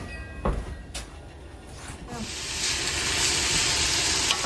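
Vegetables sizzle over medium heat in a pot for potato soup, with a few clanks of a utensil at first, then a steady, close frying hiss that swells and holds.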